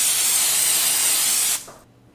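Cooking spray hisses into a Bialetti cooking appliance, one loud, close, continuous burst lasting about one and a half seconds before stopping abruptly, followed by a faint soft tail.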